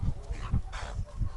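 A dog barks harshly outdoors in the snow, with several rough bursts spaced irregularly over a steady noisy background.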